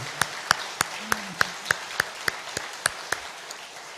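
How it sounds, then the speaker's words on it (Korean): Sparse, evenly spaced claps from a church congregation applauding its youth worship leaders and chorus, a dozen or so sharp hand claps in a steady rhythm over a quiet room, with a faint voice briefly underneath. "청년부 우리 찬양 인도하는 찬양 리더들, 코러스들, 이분들을 위해서 우리 박수 한번 할까요?"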